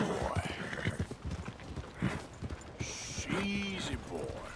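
Horse hooves clip-clop in a steady rhythm in Red Dead Redemption 2, with a horse whinnying partway through and a voice talking over the hoofbeats.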